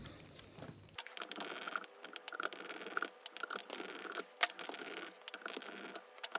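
Small screws are turned out with a 2 mm Allen key bit on a screwdriver, heard as close, quiet clicking, ratcheting and scraping ticks in irregular bursts, one sharper click near the end.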